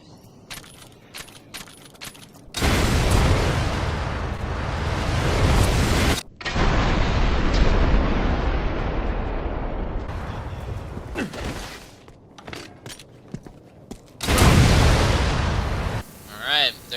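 Rocket launcher blasts ring out in the video game Resident Evil 6 during Mercenaries mode. Several loud, booming explosions with long rumbling tails follow one another, separated by quieter gaps.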